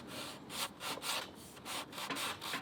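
Sandpaper rubbed back and forth over the finished wooden headstock of an Epiphone guitar, a steady series of close, rasping strokes in an even rhythm with no talking.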